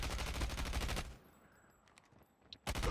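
Rapid automatic gunfire in a Call of Duty match, a loud sustained burst for about a second, then a quieter lull with faint distant clatter before another sharp burst at the end.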